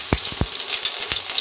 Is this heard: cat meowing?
no